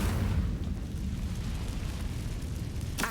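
An Incendio fire spell cast in Hogwarts Legacy gives a loud rumbling burst of flame that roars and fades, followed by a short sharp crack at the end.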